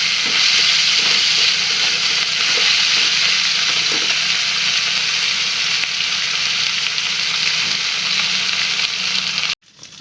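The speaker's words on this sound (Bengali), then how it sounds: "আমি আদা রসুনগুলো একটু ভেজে নিব যাতে কাঁচা গন্ধ চলে যায়।" Ginger and garlic paste fries in a hot pan for a prawn and kochur loti dish, giving a loud, continuous close-up sizzle with faint stirring scrapes, cutting off abruptly near the end.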